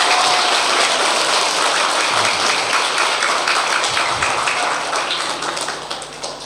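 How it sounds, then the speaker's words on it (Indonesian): Audience applause at an NU youth gathering for Sumber Gayam alumni: a dense, steady wash of many hands clapping that holds for several seconds, then thins and fades toward the end. "Tepuk tangan untuk Sumber Gayam."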